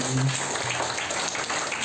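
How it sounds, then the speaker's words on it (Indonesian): Crowd applause for a guest introduced at a large family fast-breaking gathering, a steady dense wash of clapping throughout, with voices mixed in. "Tepuk tangan untuk Bang Fahmi"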